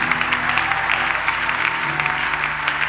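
A church congregation clapping and cheering for Jesus, a dense, steady wash of applause from a large crowd that continues evenly throughout, with a low held musical tone underneath.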